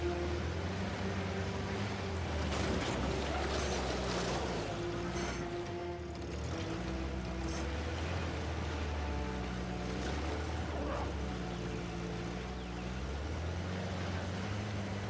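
A motorboat engine in the video game Uncharted: The Lost Legacy drones in a low, steady rumble with rising and falling pitch, accompanied by water wash and swelling game music, continuous for the whole stretch.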